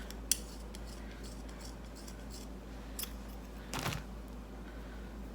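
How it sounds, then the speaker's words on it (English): Scissors snipping the hair loops on a pony bead doll: a sharp click near the start, a small snip later, and a longer cutting rasp near the end, all close and quiet over a low steady hum. "You just take and cut the loops."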